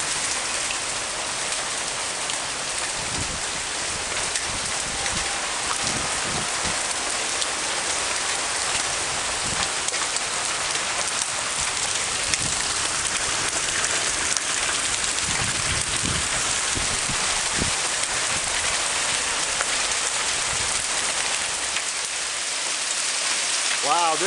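Hail pours down in a heavy storm, a dense continuous roar of pelting stones hammering surfaces, with occasional louder close impacts throughout.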